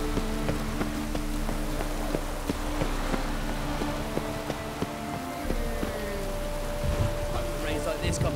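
Steady rain falls in The Witcher 3: Wild Hunt, a continuous close patter of drops with a low hum under it running throughout.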